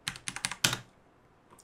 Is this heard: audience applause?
no